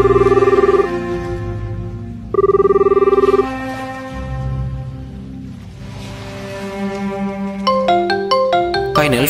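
A telephone rings in an animated school drama, loud repeating electronic ringtone bursts with a pulsing tone, then a melodic ringtone phrase and rising beeps toward the end, close and clear with no talk over it.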